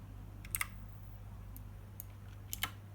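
Keys are pressed on a Nubwo NK-60 mechanical keyboard: a few sparse, faint clicks in pairs, close by, over a low constant hum.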